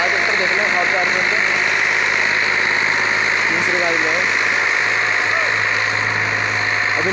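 A new Massey Ferguson 245 tractor pulling a 9-tine cultivator runs with a steady, continuous engine drone throughout, with someone talking over it.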